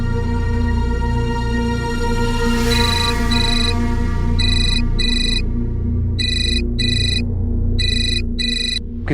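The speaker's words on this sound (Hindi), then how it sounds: "किसका फोन है?" A telephone rings in a home setting, electronic ringtone bursts repeating in pairs with short gaps, fairly loud and clear over a steady low background hum, no talking.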